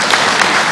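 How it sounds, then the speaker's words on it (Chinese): An audience breaks into continuous, close applause at a regional comedy showcase as two young performers from a Hangzhou comic theatre are welcomed to the stage. "我们掌声欢迎"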